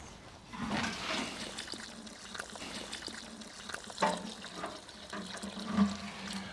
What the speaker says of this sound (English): Then it's simply a case of adding the comfrey concentrate so that it's approximately 1 part comfrey to 20 parts water.